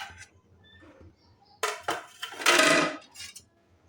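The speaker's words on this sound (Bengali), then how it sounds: "আমি ঢাকা খুলে এবার দেখব" A lid lifted off a pot of matar paneer gives a few sharp metallic clanks and a brief rattling scrape, close and fairly loud, with quiet kitchen stillness before and after.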